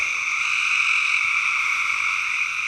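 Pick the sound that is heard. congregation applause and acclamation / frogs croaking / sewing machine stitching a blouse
frogs croaking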